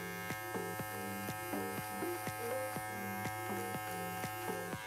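Beard Club PT45 electric beard trimmer running steadily on a beard, a close, continuous buzzing hum with a rhythmic pulsing as the blades pass over the hair, with no talk.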